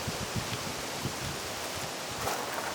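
Gusty outdoor wind buffets the microphone as a steady broadband rush with soft low thumps, close and fairly constant throughout, no voices.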